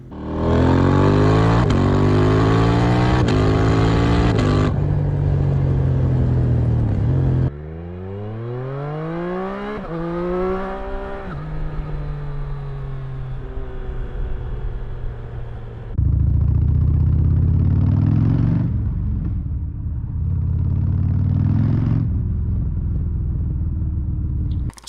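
An Aprilia Tuono 457 parallel-twin motorcycle engine revs in several loud bursts, pitch sweeping up and falling back between pauses, with a throaty rumbling exhaust note heard up close and no voices.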